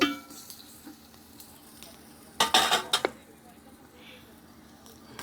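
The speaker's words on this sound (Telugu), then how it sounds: "ఇదిగోండి చక్కగా వేగిపోతున్నాయి." Food stirred in a frying pan gives a low sizzle, broken by a sharp burst of metal scraping and clinking against the pan near the middle, then a quieter hiss.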